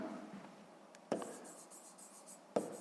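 A pen writes numbers for a sixth-grade math exercise on a rectangle's width: soft, faint scratching close by, with two sharper taps as the pen meets the page.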